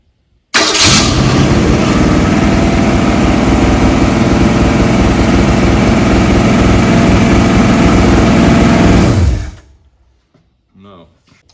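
1964 Ford Galaxie engine on a run stand, starting abruptly and running loud and steady for about nine seconds before shutting off, followed by a brief quiet voice.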